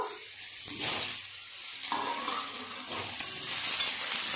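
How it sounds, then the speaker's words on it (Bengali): Potato and ridge gourd pieces frying in a pan, a close hissing sizzle that swells as the pieces are stirred, with a few brief scraping strokes. "আলু আর ঝিঙে খুব ভালো করে ভাজা করে নেব।"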